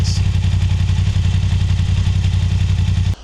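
Motorcycle engine idling steadily with a new exhaust, a loud, close, even throb with a fast pulsing beat and no talk, cutting off abruptly at the end.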